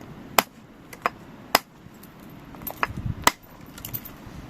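Stone knapping on an Acheulean biface core: sharp, close, isolated clicks of stone striking stone at irregular intervals, about six main blows with smaller taps between, in a quiet room.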